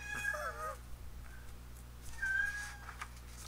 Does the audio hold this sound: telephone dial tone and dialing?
no